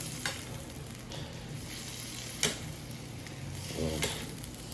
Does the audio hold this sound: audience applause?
no